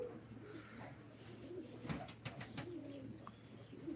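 Pigeons at a live pigeon auction give soft, low cooing calls in a steady murmur, close by, with a few brief sharper sounds and no clear talk.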